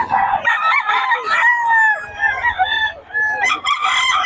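Young gamecock roosters crow repeatedly, loud and close, with long wavering calls overlapping one another and a few clucks between them.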